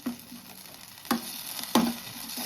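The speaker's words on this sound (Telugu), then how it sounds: "ఈ టమాటాను కూడా ఇదే ప్యాన్లో వేసి వేయించుకున్నాను" Sliced tomato sizzling and frying in a pan for a Telugu minapappu roti pachadi chutney, with a steady close-up crackle and a few louder stirring clatters, no talk.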